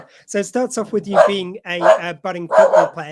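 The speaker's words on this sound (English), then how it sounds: "Pardon for the dogs in the background." Dogs bark in the background, faint and intermittent beneath continuous close speech from someone talking throughout.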